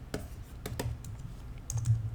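Computer keyboard keys, including the bracket keys beside P, pressed during a digital coloring session: a handful of light, irregular clicks close up, with no speech.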